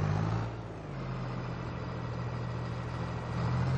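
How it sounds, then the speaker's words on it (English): A big tractor engine idles in Farming Simulator 22, a steady low rumble that holds close and even throughout with no talk. "Right, this is the big tractor."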